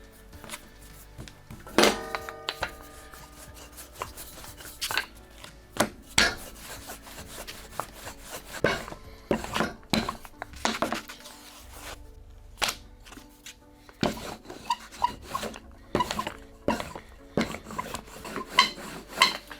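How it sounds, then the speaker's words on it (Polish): A rolling pin works faworki dough thinly on a wooden pastry board, making irregular soft thuds, rubs and knocks of wood on wood. The sounds are close and come alone, with no talking. "Dzielimy na dwie równe części i wałkujemy. Wałkujemy bardzo cienko."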